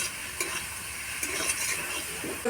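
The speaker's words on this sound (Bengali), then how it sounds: "ঝিনুকটা মোটামুটি 5-6 মিনিট ভাজা করি।" Cleaned mussels fry in a pan for a village-style curry, a soft continuous sizzle broken by a few light scrapes and clinks of stirring.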